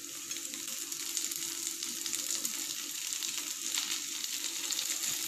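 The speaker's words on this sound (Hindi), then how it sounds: "अब हम इसमें टमाटर डाल देंगे।" Chopped tomatoes go into a pan of frying onions for a spinach and corn curry, a steady close sizzle that stays even and continuous with no talking.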